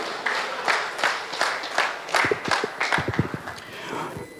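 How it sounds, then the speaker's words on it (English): Members clap at a South Chapter fifth-anniversary celebration event, a loose, uneven patter of hands with some louder sharp claps near the front, steady for a few seconds with no talk. "Members, keep clapping."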